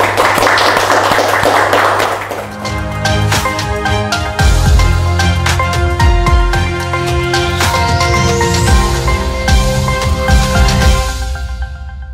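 Applause for two guests on a television talk show, a dense burst of claps that swells after a couple of seconds and holds steady before tapering off at the end, with no talking over it.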